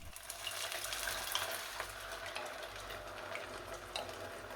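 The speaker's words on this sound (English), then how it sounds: "pour in the spicy tomato mix" A quiet, steady sizzle and crackle from a hot pan of browned onion, with spicy tomato mix poured in, bubbling continuously and fairly close.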